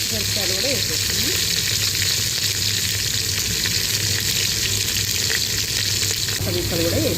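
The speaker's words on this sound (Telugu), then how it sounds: "ఉల్లిపాయలు కూడా వేసేస్తున్నాం. పచ్చిమిరపకాయలు కూడా వేసేస్తున్నాం." Sliced onions and green chillies fry in hot oil, a loud, continuous close sizzle with stirring underneath and a brief low voice over it.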